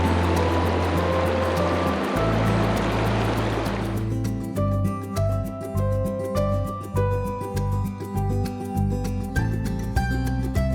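The Green River runs as a steady rushing wash of water for about four seconds, loud and close, before music takes over for the rest.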